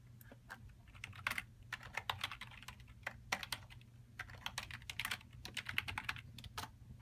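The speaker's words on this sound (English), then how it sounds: "So usually we type it in." Invoice owner details being typed on a computer keyboard in an office: quick bursts of crisp keystrokes broken by short pauses, close and fairly quiet over a low hum, with no one speaking.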